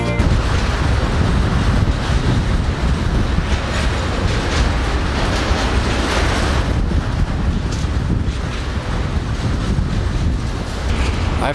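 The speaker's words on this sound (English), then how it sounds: "I have to wait before the freight train is gone." A freight train rolls past on a rural Spanish line, a loud, continuous rumble and rattle of wagons close by for the whole stretch, with no break in the noise.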